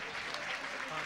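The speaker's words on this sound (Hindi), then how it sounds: "जोरदार ताली बजाओ एक बार" Audience at a Jain diksha ceremony clapping, a dense, steady burst of applause from a crowd lasting about a second.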